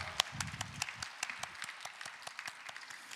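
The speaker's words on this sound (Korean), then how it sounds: "하나님께 영광의 박수 올리겠습니다" A church congregation at a Sunday youth worship service claps briefly, a soft, somewhat sparse patter of hands for a few seconds after a hymn.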